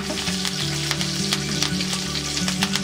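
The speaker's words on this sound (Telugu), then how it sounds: "కొంచెం జీలకర్ర, కొంచెం సాయిపప్పు, ఎండుమిర్చి, కరివేపాకు వేసి వేయించుకుందాం." A tempering of mustard seeds, cumin, dal, dried red chillies and curry leaves fries in hot oil for an amla pickle, making a loud, continuous crackling sizzle close up with small spitting pops throughout and no talking.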